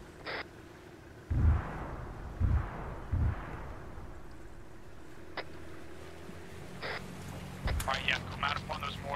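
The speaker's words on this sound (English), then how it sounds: "Wait till these explosives go off to get on those mortars." Deep booming explosions in a military video game, three heavy low thumps in quick succession followed by another blast later, with wind-like rumble and faint radio chatter around them.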